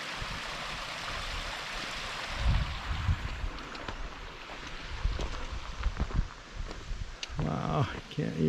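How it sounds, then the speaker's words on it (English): A small creek stream along the North Fork of the Skokomish River in Olympic National Park gives a constant close rushing wash of flowing water, with a brief voice near the end. "Here's another cool little creek stream."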